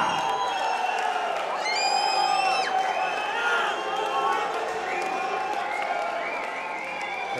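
A cage-fighting crowd applauds and cheers as a fighter walks out to the cage. A loud, steady roar of clapping and whoops sits under music with bright tones, and it does not let up.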